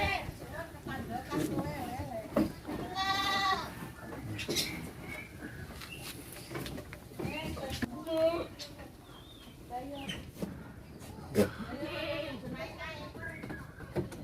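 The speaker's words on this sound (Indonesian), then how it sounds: "Ternyata kambing kita cukup lahap makannya" Goats bleating while eating a mixed wet and dry feed, several close, quavering calls rising over steady chewing and rustling, with a person talking in between.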